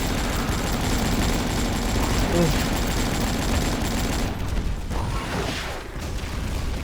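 Continuous rapid gunfire from the online shooter game Avatar Star fills the first few seconds as a dense, loud rattle, then thins into scattered shots and game noises.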